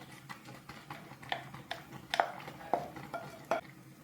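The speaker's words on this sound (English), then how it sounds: "I'm gonna give it a good stir" Okra soup with fish, crayfish and spinach stirred in a pot, the spoon giving a series of soft scrapes and light metallic taps, close and quiet.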